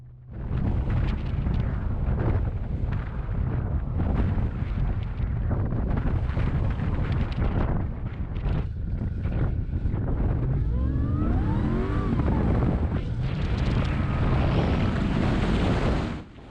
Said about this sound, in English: Gotta love the sound of that supercharged V8.